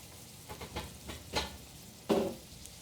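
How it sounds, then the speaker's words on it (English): Scallops sear in a hot pan with a soft crackling sizzle, punctuated by several stirring scrapes and one sharper burst near the end; fairly quiet and close. "because I really want that caramelization to set in, and I want the scallops to cook really nicely."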